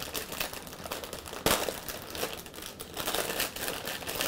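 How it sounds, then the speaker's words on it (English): A plastic bag of mushrooms being cut open and crinkled, with continuous close crackling and rustling and a sharper snip or tear partway through. "We'll cut the bag here."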